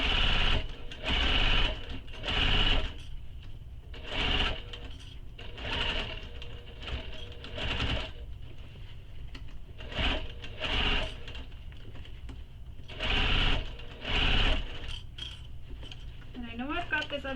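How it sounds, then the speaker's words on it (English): A sewing machine stitches the side seam of a fabric handbag in repeated short bursts of rapid mechanical whirring, separated by pauses, while a person talks throughout. "Now I'm going to sew this side with the seam allowance given in the pattern."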